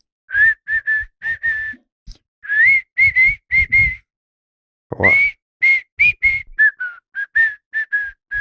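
The Wire's theme tune is whistled as a series of clear, bright notes in short phrases, repeated across the clip with a brief pause midway; a voice briefly speaks between phrases.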